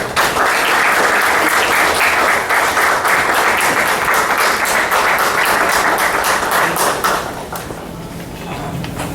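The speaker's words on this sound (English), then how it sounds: "Huge round of applause for him" Sustained applause from an audience welcoming a speaker at an inauguration event, loud, dense clapping filling most of the stretch before tapering to a quieter patter near the end.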